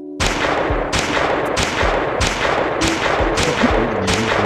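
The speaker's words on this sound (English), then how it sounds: "I just got like 10 clean shots on you." Sniper shots ring out in the video game Penguin Paradise, about six loud, sharp reports at a regular pace, each with a short decaying tail over a constant background roar.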